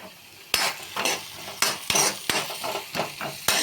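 Onions fry in a pan while a utensil stirs them, with sharp scraping clacks roughly every half second over a soft background sizzle.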